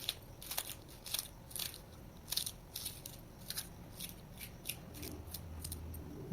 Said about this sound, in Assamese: এতিয়া ইয়াত ধনিয়া আৰু পিঁয়াজ পাত লৈছোঁ। এইখিনিও মই সৰু সৰুকৈ কাটি ল'ম।